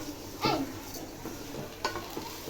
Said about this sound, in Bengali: এই যে পোলাও রান্না করতেছি আমি এখন